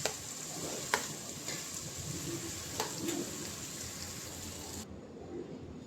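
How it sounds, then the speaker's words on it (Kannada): Onions and chilli paste fry in a pan for nati-style biryani, a close continuous sizzle with a few sharp clicks of a stirring spoon against the metal, the crackle dropping slightly near the end. "ಈರುಳ್ಳಿ ರೆಡ್ಗೆ ಫ್ರೈ ಆಗಲಿ, ಅಲ್ಲಿವರೆಗೂ ನಾವು ಹುರ್ಕೊಳ್ಳೋಣ"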